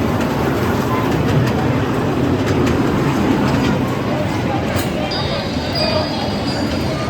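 Toy train ride at a crowded temple fair, its rumble and rattle running continuously under steady crowd noise and nearby talk.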